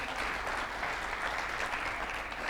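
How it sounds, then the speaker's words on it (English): An audience at a traders' conclave claps in steady, dense applause that holds at an even level from start to finish. "Let's give him a big round of applause."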